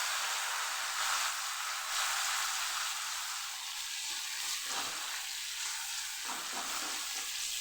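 Ginger, green chili and garlic paste fries in hot oil in a pan, giving a loud, steady close-up sizzle that dips briefly twice as it is stirred, with no talking.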